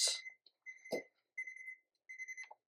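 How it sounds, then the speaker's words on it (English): An oven timer goes off while peanut butter cookies bake, giving a faint, shrill electronic beep in short repeated bursts separated by brief pauses. "Okay, the timer's going off."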